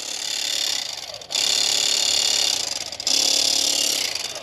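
KastKing Speed Demon Pro electric fillet knife motor whirring loudly at close range, a steady high buzzing drone broken by two brief dips where it briefly cuts and restarts.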